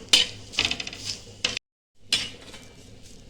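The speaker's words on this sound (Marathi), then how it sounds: "आता आणखीन जरा आपण कांदा भाजून घेऊ" A spoon stirs roasting onion in a metal pot for chicken rassa, with scraping clinks and faint sizzle in short close bursts, a brief silent pause, then more stirring.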